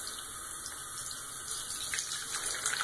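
Tap water runs steadily from a kitchen faucet, wetting a sponge for disinfecting cleaning; a continuous close hiss and splash with slight shifts in the flow as the sponge meets the stream, and no voices.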